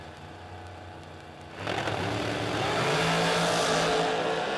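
Dragster race cars at the 5th Annual Spring King of the Creek drag event launch down the strip, the engine roar swelling to a loud, sustained rush partway through after a quieter rumbling start.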